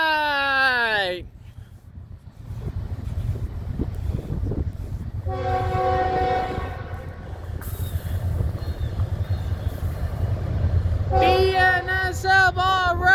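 BNSF freight locomotive 6592 passing on the Brookfield Subdivision, sounding loud blasts of its multi-tone horn at the start, middle and end over a steady heavy rumble of the train rolling by, with a voice speaking near the microphone.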